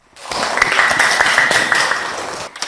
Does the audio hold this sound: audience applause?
yes